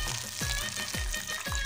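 Peanuts frying in hot oil in a kadhai, a steady bright sizzle with soft rhythmic scraping stirs roughly every half second, close and alone.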